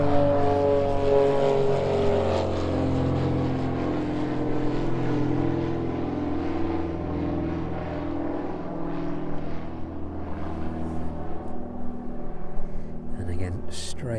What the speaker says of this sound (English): There it goes, very rapid takeoff there.